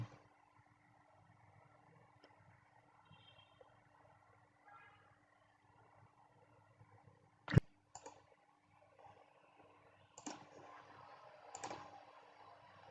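Sparse computer mouse clicks are heard during a Kali Linux installation, a few soft isolated clicks with one sharper click near the middle and more toward the end, over quiet room hiss.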